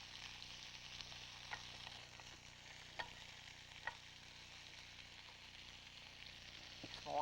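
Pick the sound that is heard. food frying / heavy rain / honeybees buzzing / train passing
food frying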